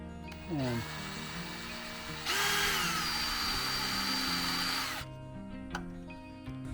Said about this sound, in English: What you can do is you can take a drill